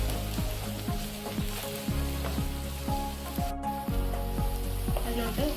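Coriander powder is stirred through hot oil in a frying pan for a Kerala-style fish masala roast, giving a steady close sizzle with repeated scraping strokes of the spoon, about one every half second.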